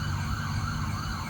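An emergency vehicle siren from a hazmat team response wails steadily and loudly throughout, with a continuous tonal drone over road rumble and no talking.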